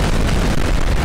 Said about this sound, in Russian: Самолет скинул парочку бомб.